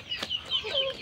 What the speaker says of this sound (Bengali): তো দেখেন আপনারা, মুরগিগুলো কিন্তু অত্যন্ত সুন্দর